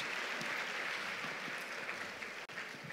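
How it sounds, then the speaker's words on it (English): A conference audience applauds a panel in steady, dense clapping that holds at an even level throughout, with no talk over it. "We should give this panel another round of applause."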